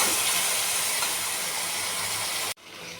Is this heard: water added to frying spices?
yes